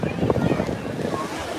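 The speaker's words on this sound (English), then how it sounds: "It is very hot and windy at Instabeach." Wind buffeting the microphone on a hot, windy beach, a blustery low roar with a hint of surf, while a person speaks over it.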